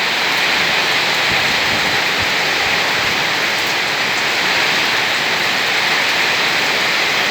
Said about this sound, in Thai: ฝนตกปล่อยๆทั้งวันเลย